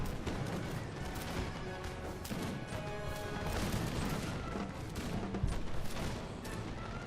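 Dense, continuous battle din from Napoleon: Total War, with musket volleys crackling and popping over a steady roar of distant firing, some sharper cracks standing out near the end.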